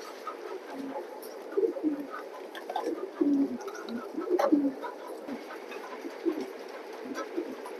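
A pair of racing pigeons in a loft give repeated soft, throaty coos in small clusters, close by and fairly quiet over a low steady hum.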